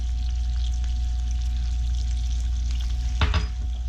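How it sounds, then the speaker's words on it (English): Onions frying in hot butter in a pan for a beef rice bowl, a steady close sizzle with a low hum underneath and a brief stirring clatter near the end. "Okay, our butter's hot. Let's add the onions."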